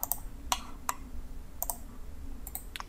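A computer mouse clicks while working in Inventor CAD software: a handful of sharp, quick clicks, some in close pairs like double-clicks, spaced irregularly over a low steady hum.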